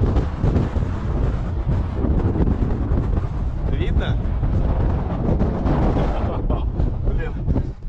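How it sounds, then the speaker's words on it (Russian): Strong wind roars steadily into the microphone at a cliff edge near Foros, a dense, continuous buffeting rush lasting throughout, with a person briefly speaking over it. "Ветер очень сильный, что аж страхово подходить к обрыву."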